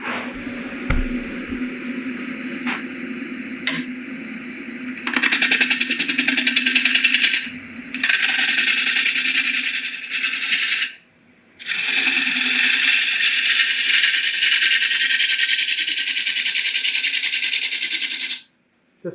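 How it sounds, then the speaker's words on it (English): A woodturning lathe spinning a bowl: a steady, loud mechanical whir and rattle runs for long stretches, dropping out briefly before resuming, close by with no talk. "Turn the lathe down because you don't want it spinning its head off."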